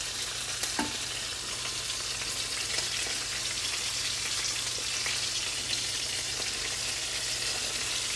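Hamburger steak patties frying in butter in a pan give a dense, even sizzle like steady rain, close and unbroken, with a couple of faint clicks and no speech.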